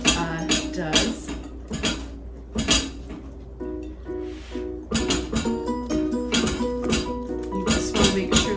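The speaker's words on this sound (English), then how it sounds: "Get this all stirred up." A spoon scrapes and clinks repeatedly against the side of a bowl as cornbread batter with butter is stirred, a close, rhythmic clatter that continues throughout.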